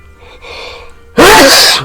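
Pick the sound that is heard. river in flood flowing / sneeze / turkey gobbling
sneeze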